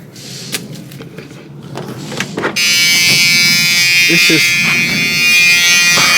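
A 1978 Chevrolet Malibu Classic running a little cold and low on gas: a steady engine drone that starts after some clicks and handling noises, then holds loud and even while someone speaks.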